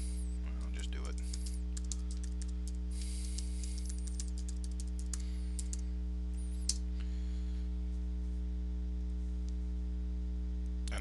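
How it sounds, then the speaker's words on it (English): Typing on a computer keyboard, rapid light clicks in scattered bursts over a constant low electrical hum, fairly close and quiet. "you just type in Google Webmaster Tools right up here"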